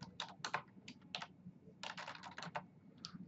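Quick bursts of keystrokes clatter on a computer keyboard as a command is entered, the clicks close and crisp and grouped into short runs with brief pauses between.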